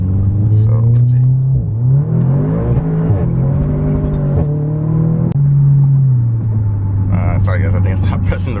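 An Audi car accelerating hard with its wheels spinning, a loud, close engine drone that climbs and dips in pitch over several seconds before breaking into a rougher, noisier roar near the end.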